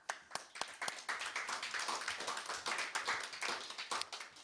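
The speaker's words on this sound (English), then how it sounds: "Give her a little applause." A small audience at a live music night in a bar gives brief, scattered applause, with distinct handclaps close together at a fairly low level.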